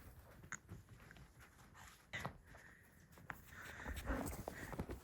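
A dog shuffles and pants through snow, quiet, irregular paw steps and breathy panting in a calm outdoor setting, with a few sharper crunches and a slightly louder stretch near the end.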